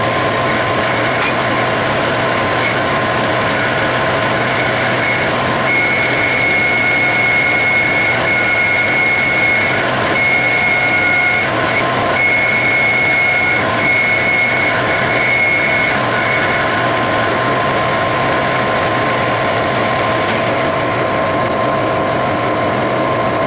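A 1½-inch annular cutter bores into 2-inch leaded steel bar stock on a lathe, giving a steady mechanical drone with whining tones that persists throughout, with no talk.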